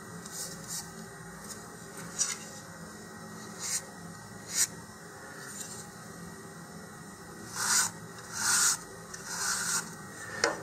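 Light, intermittent rubbing and scraping of sandpaper removing excess sanding sealer from the fin edges of an Estes Baby Bertha model rocket, a few short strokes with quiet pauses, close and fairly soft.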